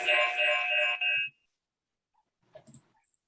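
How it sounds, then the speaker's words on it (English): A mobile phone ringtone goes off during an office sales meeting, a loud electronic ringing lasting just over a second, then cutting out, followed by brief faint murmurs in a quiet room. "So somebody has to mute their phone."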